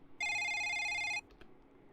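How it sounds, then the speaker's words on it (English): A telephone rings once as a sound effect, a single sharp electronic trill lasting about a second and standing alone, followed by a couple of faint clicks. "The phone rang, and rang, and rang."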